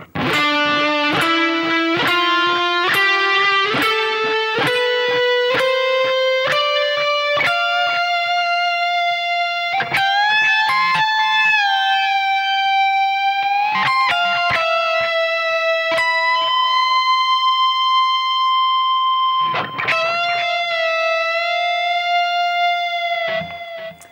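Distorted electric guitar plays a solo, starting with a quick run of rising picked notes, then sustained bent and vibrato notes, loud, close and continuous with no talking.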